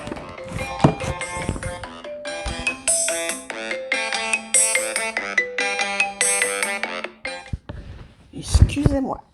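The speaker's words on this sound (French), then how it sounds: "il y a un téléphone" A telephone ringtone plays a bright melodic tune for several seconds, loud and close, with taps and a voice speaking around it at the start and end.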